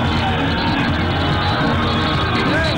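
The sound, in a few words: crowd cheering at PM Modi's roadshow in Surat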